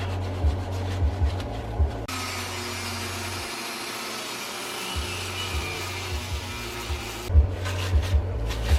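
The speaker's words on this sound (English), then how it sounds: "we got a good amount of sandpaper grits to go through, so we're just gonna get these clean" Sandpaper works a cylinder head port in an engine-porting job, producing a steady abrasive rubbing drone with rhythmic low strokes that pause midway and resume, close and continuous.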